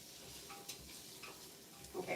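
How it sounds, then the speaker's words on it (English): Onions in a soup pot give a soft, low sizzle while a spoon stirs them in brief scraping strokes, quiet and close with no talking. "we're giving our onions a stir"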